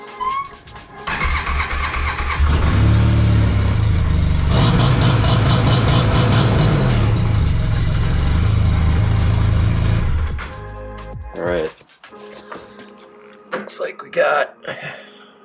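An Arctic Cat snowmobile engine, fitted with a track hub delete kit, runs loud and close for about nine seconds, then cuts off, and people talk afterwards.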